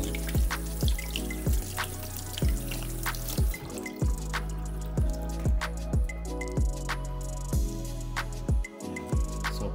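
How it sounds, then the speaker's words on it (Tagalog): Fruit is rinsed under a running kitchen tap, with a steady stream of water and repeated dripping, splashing plops as the fruit is turned in the flow, close and continuous. "First, hugasan muna natin."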